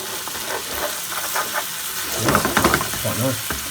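Curry sizzles and fries in a pan, a soft hiss broken by scattered crackles, growing busier with bubbling pops and stirring scrapes in the second half.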